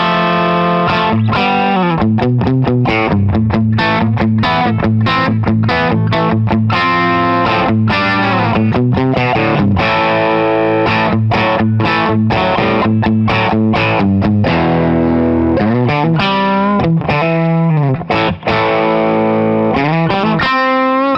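Budget offset electric guitar, priced around $129 and under $150, played through heavy distortion: sustained chords and riffs at steady high volume for about twenty seconds with no talking.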